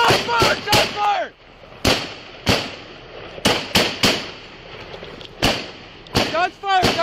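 Loud close gunshots fired at a police officer, a rapid irregular volley of sharp cracks with echoing tails, mixed with shouting voices and a short electronic whoop.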